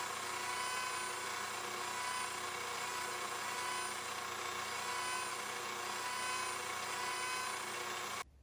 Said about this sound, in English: I just got a little Dremel here with a little small grinding wheel in there.